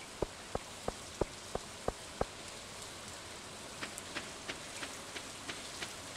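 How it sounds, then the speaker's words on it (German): Pouring rain in Stardew Valley, with a faint steady hiss and a run of sharp, evenly spaced ticking drops at the start, then softer scattered taps. "Bei strömendem Regen nach Hause kommen."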